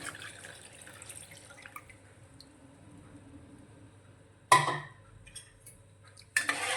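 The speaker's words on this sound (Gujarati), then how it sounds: "હવે આપણે જે જીરાનું પાણી તૈયાર કરીને રાખ્યું છે તે અંદર લઈ લઈશું" Cumin water is poured into dissolved sugar water in a pan for jeera sharbat, giving a short, sudden splashing pour after a quiet stretch, then a second brief pour at the end.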